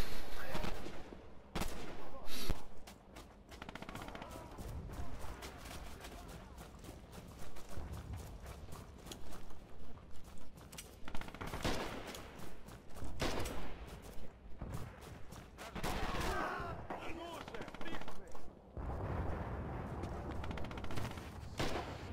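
Bursts of DP-28 machine gun fire and scattered rifle shots rattle through a Red Orchestra 2 firefight. The shots come in rapid, uneven clusters of varying loudness, separated by short lulls.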